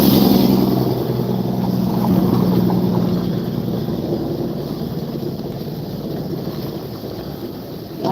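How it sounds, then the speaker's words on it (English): A loud truck rumbles past outdoors, its deep engine drone strongest at first and then slowly fading as it moves away, with some wind noise and no talking. "Oh, loud truck."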